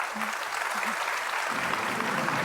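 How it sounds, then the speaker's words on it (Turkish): A studio audience on the Turkish TV quiz show Kim Milyoner Olmak İster breaks into applause, a brief, steady burst of clapping at moderate level. "alkış bu kadar mı?"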